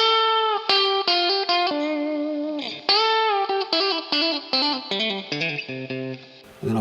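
Solo electric guitar lead in the style of a song's end solo, played through a plate reverb, with quick bursts of notes, bends and short pauses, loud and close.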